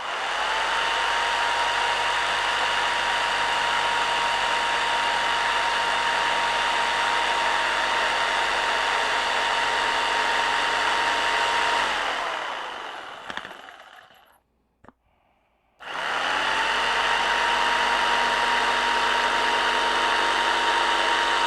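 Handheld jigsaw cutting wing tips for a Tucker XL wing, a loud steady buzzing whine for about twelve seconds that winds down to near silence, followed by a sharp click before the saw starts again.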